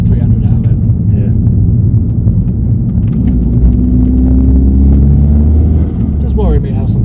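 Turbocharged engine of a Mk4 VW Golf GTI project car revving and spooling up, a steady low rumble with a rising whine layered over it, close and loud, while people talk over it.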